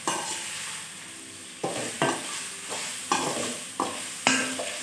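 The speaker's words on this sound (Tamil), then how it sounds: "இப்போ பைனாப்பிளை இதில் நல்லா" Pineapple cooking for pickle in a hot pan, with a steady sizzle and a run of sharp, regular stirring scrapes every second or so, close and clear.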